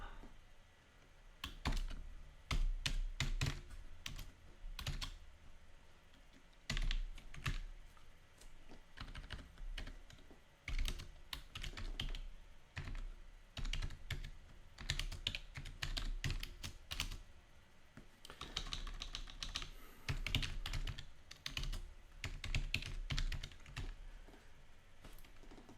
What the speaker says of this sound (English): I'm typing over there